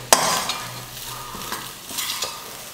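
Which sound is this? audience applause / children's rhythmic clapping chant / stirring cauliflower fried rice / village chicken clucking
stirring cauliflower fried rice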